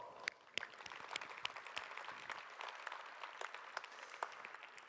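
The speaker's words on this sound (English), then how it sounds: "I want to have you give them a round of applause." A conference audience at a business summit claps for business leaders, a fairly quiet, sustained patter of many hands with distinct sharp claps standing out throughout.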